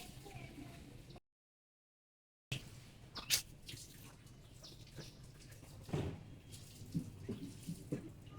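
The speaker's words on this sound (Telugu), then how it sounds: "సో గాయస్ ఆ వాటర్ అనేది ఇట్లా దీంట్లో పడతా ఉన్నాయి అన్నమాట పైన నుంచి." Water leaking from a damp ceiling drips into a container indoors, a few distinct irregular drops standing out over a faint steady background, fairly close, with a short gap of silence early on.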